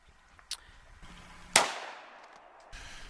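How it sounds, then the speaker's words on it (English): A single sharp gunshot from a .45 caliber 1911 pistol firing a HydroShock defensive round into body armor, loud and close with a decaying ring, preceded by a faint tap and followed by a light thump. "This is the HydroShock, shot at a 45, 1911."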